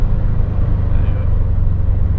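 A Subaru Impreza WRX STI driving on a track, heard from inside as a loud, steady engine and road drone, with a voice talking over it.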